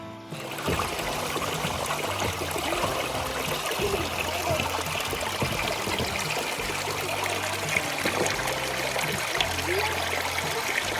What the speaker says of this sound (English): But creek is super, super nice right now.